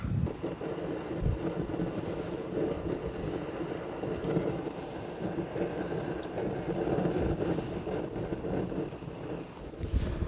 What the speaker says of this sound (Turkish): Yine çok rüzgarlı bir gün arkadaşlar.